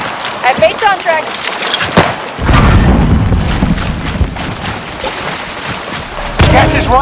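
In a video game, a frag grenade explodes with a heavy boom and a long rumbling tail, after some short clatter and game voices.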